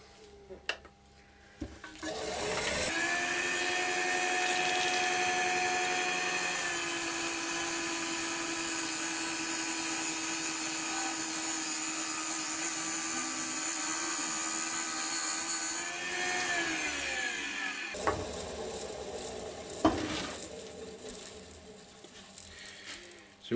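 A wood lathe turns a big walnut bowl as a tool takes very light cuts, a sustained whirring hum with a steady scraping hiss, rising to a loud run then winding down near the end.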